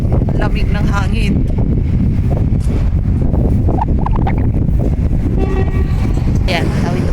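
A train horn toots briefly in a cold, windy Czech city street, partly buried under heavy wind rumble on the microphone, with a person talking nearby.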